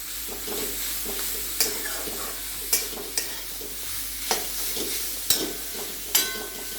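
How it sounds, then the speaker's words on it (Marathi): Radish filling with salt stirred in a pan, a steady soft sizzle broken by periodic spatula taps and scrapes against the metal, close and moderate in volume, no voices. "आणि मीठ हे चांगलं हलवून घेऊया"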